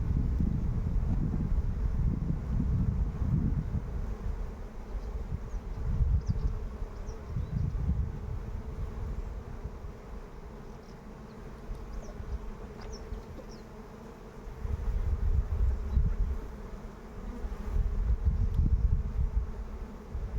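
Honey bees swarming around an opened hive box, a dense, continuous buzzing hum with gusts of wind noise rising and falling, no speech heard.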